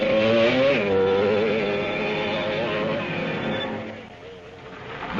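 Off-road race car engines roar steadily at the 1967 Baja 1000, rising and shifting in pitch as the cars approach, with a brief dip before the noise builds again.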